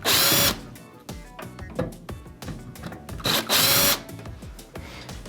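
Screws are backed out of the control panel on a Whirlpool oven with a power driver: several short, loud whirring bursts separated by brief pauses and small clicks, close by, with no talking.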